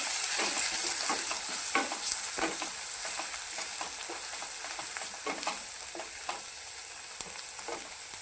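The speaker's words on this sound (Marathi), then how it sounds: "आता हे चांगलं परतून घ्या सगळं।" Steady sizzling and frying of chickpea usal spiced with turmeric and black masala in a pan, with repeated scraping stirs of a spoon against the vessel, close and continuous.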